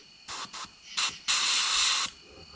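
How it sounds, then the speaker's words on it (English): Several short hissing bursts of spray paint onto a fishing lure, two quick ones, then another, followed by a longer continuous spray, close and fairly loud. "Spray nice and light."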